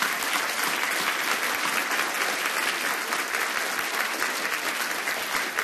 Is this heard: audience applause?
yes